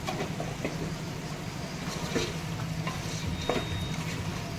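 Mutton curry being stirred and fried with chili powder and coriander powder in a pan, a steady sizzle broken by a few sharp scraping stirs, near and alone.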